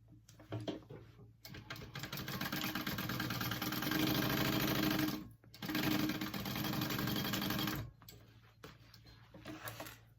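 A sewing machine tacks down pleats on a shoulder bag, running in two steady, loud, close-up stitching bursts separated by a brief pause, with quieter starts and stops at either end.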